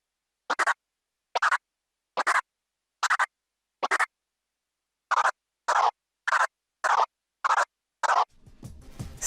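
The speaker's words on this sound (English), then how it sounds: "The simplest way to do this is to perform a crab on the forward and reverse jog wheel movements" Crab scratch performed on a DJ controller's jog wheel with forward and reverse movements: about a dozen crisp, evenly paced chopped bursts separated by clean silences, ending in a short patch of rougher noise.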